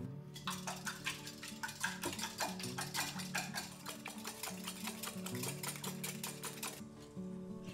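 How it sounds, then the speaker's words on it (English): Eggs being whisked by hand in a large jug, a fast steady rhythmic clatter of the whisk against the sides, close and fairly loud, running continuously before stopping near the end. "just crack them into a large jug and give them a good whisk"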